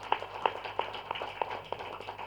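An audience at a pyramid meditation anniversary celebration claps in a sparse, uneven patter of separate hand claps, fairly faint and distant, with no speech over it.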